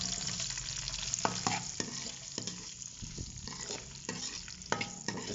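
Chopped medium-sized onion sizzles steadily in hot ghee for aloo gobhi, with a spoon stirring and scraping the pan in repeated knocks, close and continuous.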